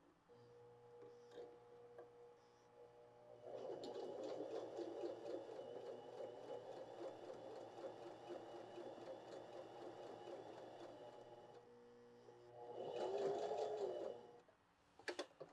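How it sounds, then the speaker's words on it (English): A Baby Lock Joy BL25B sewing machine stitches a blind hem, its steady motor whir and rapid needle clatter running continuously for about eight seconds, then a short louder burst near the end, close and clear with no talking. "All right, let's stitch that out and see what it looks like."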